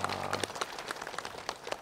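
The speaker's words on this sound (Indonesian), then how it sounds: "Tepuk tangan, masya Allah." Scattered audience applause at an Indonesian religious gathering, faint and somewhat distant, with irregular claps spread across the short stretch.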